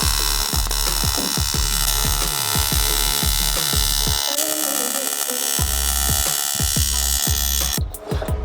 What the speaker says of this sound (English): That's fun to weld.